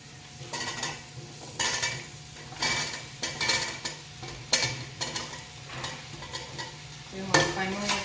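Vegetables stirred in a hot frying pan with tomatoes, a steady sizzle under repeated scraping and clinking strokes of a utensil against the pan, close and fairly loud, with no talk.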